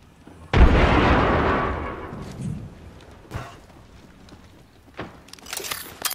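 A frag grenade in Apex Legends goes off in one loud, close boom that rumbles and fades over a second or two, followed by a few fainter pops and distant shots.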